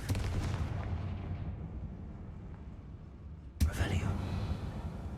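The Confringo fire spell in Hogwarts Legacy bursts with a deep, rumbling blast inside a closed mine that slowly fades. A second sharp explosion follows a few seconds later and rolls out loudly.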